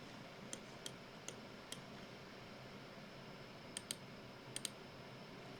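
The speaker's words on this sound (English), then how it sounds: "I'm pressing right click." Mouse clicks on a computer during AutoCAD drafting, sharp faint ticks in two small clusters, a few single clicks early then paired clicks later, close up over quiet room hiss.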